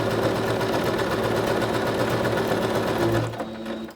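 A Singer Sewmate 5400 sewing machine runs steadily through thick pant seams, a loud continuous mechanical whir with rapid needle rhythm that slows and stops near the end.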